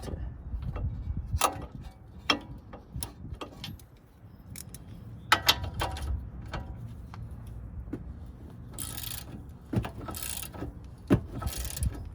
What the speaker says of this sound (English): I take another socket and I like to really crank on it